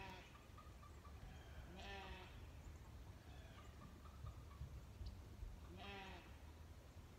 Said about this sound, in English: one of my sheep is inside my barn right now